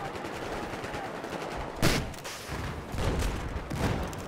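Gunfire in a Battlefield 4 multiplayer match, with a few sharp shots and bursts spread over a few seconds among steady game noise; no talking.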